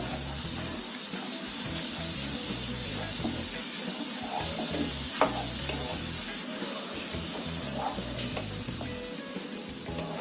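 Half a cup of curd stirred into a bhindi masala base on a low gas flame, a continuous wet hiss and sizzle with faint spoon scrapes running steadily throughout, no talking.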